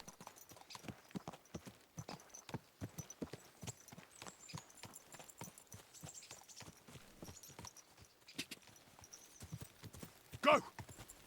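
Horse hooves clip-clop steadily in the Kingdom Come Deliverance 2 video game, a fast continuous patter of moderate loudness that runs the whole stretch, with one sharper, louder hit near the end.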